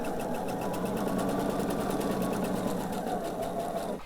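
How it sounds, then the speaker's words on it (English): A sewing machine stitches a quilt binding seam and backstitches, giving a steady, close, loud mechanical whir with a fast even needle pulse throughout. It stops abruptly at the end. "I'm going to start a little bit on my piece and then backstitch."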